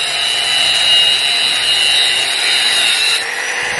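Broken bolt being cut off just above its nut with a power cutting tool, a loud steady high-pitched grinding rasp that runs continuously for about three seconds, then stops, with no talking.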